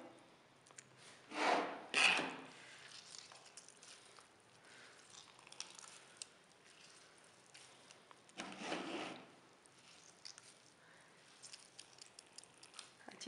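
Grated radish is squeezed by hand to press out its water, making a few quiet, wet rubbing squishes that come in brief bursts with long soft pauses between them.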